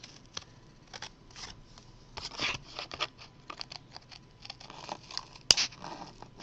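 Scissors snip slowly and methodically through fabric in fussy cutting, a run of soft, close, irregular cuts with one sharper snap near the end, no talking.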